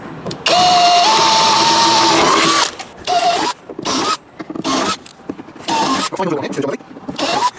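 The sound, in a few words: drill drilling out rivets on Land Rover 110 roof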